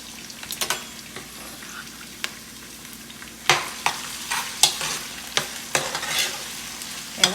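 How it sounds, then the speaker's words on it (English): Onions fry in preheated oil in a pot, with a steady sizzle under repeated sharp scrapes and knocks from stirring, which grow busier and louder in the second half. "I love the smell of cooking onions."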